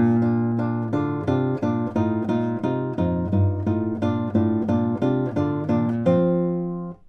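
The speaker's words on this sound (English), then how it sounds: "So this one is from Giuliani's 15th Opus 48 study" Classical guitar plays an excerpt of Giuliani's Opus 48 study No. 15, with plucked notes and chords ringing in a steady, flowing rhythm, close and clear with no voices, before the final chord fades.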